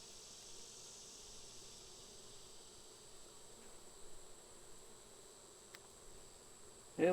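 Honey bees buzzing around hive frames, a steady low hum of many insects close by, faint and continuous, ending in a sudden louder knock or rustle.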